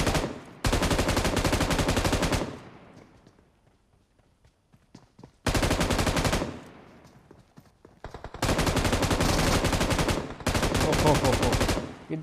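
Rapid automatic gunfire in a battle royale video game final-zone fight, loud sustained bursts separated by short pauses and quieter game ambience, with brief fainter shots in between.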